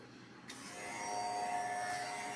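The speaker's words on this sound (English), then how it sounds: "hair clipper" An electric hair clipper switches on and runs with a steady, fairly faint buzzing hum during a scalp treatment and haircut.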